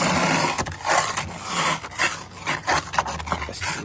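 Someone scrubs a car's surface near the side mirror on an early spring morning, producing close, rhythmic rasping rubs in uneven strokes with no talk.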